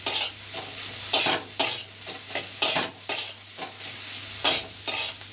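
A potato filling with chili powder being stirred in a hot pan: rhythmic scraping strokes about every half second over a soft background sizzle, close and clear, with no talking.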